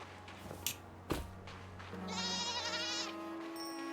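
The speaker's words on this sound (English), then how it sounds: "we're gonna carry the baby goat" A baby goat in the game REKA bleats in a drawn-out, wavering cry after a few soft thumps, close and clear over a low steady hum.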